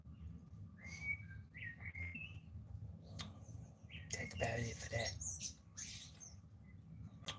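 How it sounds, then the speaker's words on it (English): Faint bird chirps and whistles sound outdoors, with someone speaking briefly over the quiet background. "I don't know if you can hear the birds chirping there now."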